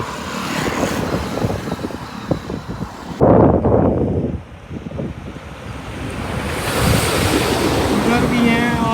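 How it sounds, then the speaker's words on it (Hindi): Strong wind gusts buffet the microphone outdoors near a row of windmills, a loud, rough rushing that swells, briefly drops, then builds again, with no speech over it. "बहुत सारी पीछे कोई हवा चल रही है"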